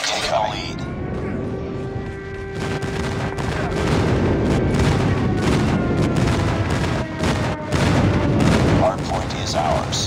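Airstrike explosions and bursts of gunfire rumble and crack through a Call of Duty Mobile hardpoint match. Booms and rapid shots pile up densely and loudly over the whole stretch, while a game announcer voice speaks over them.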